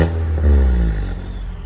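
Volkswagen Jetta engine with a remapped tune, inbox filter and modified exhaust revving once, a loud, deep rising roar that peaks briefly and then settles into a rumbling idle close by.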